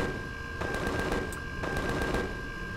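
Machine gun fire in Empyrion Galactic Survival, heard as quick bursts of sharp shots over a steady mechanical hum with a constant tone, moderately quiet and without speech.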